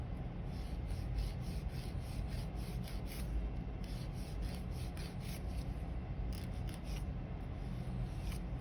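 Nail file rasping back and forth across an acrylic nail during a powder acrylic refill, a steady close scratchy rubbing with short strokes continuing throughout, with no talking.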